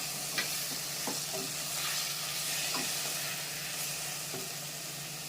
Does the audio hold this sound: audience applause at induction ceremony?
no